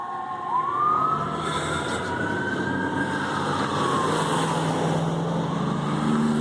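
An emergency vehicle siren wails on a Phoenix street, rising and falling in long, loud sweeps over steady traffic rumble, sounding close and continuous throughout.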